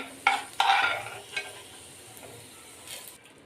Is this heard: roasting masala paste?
yes